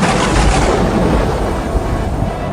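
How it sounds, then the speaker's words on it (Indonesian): Thunder of a sudden storm, a loud broad rumbling roar that starts at full strength and slowly fades over a couple of seconds, alone without talk. "kok langsung badai begini sih?"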